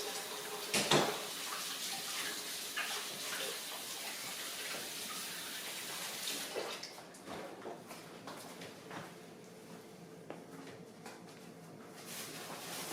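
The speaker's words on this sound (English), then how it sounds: "Wash your hands good." A kitchen tap runs while hands are washed before cooking, a steady rushing splash of water for several seconds that then drops to a quieter, intermittent trickle with small knocks.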